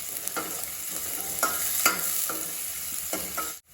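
Garlic sizzles in hot oil in a pan, a constant close hiss broken by rhythmic scraping strokes of a spoon stirring it, ending in a sudden cut.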